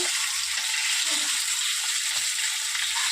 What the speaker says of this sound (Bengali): কত তাড়াতাড়ি কিন্তু ডিম ভাজা হয়ে গেল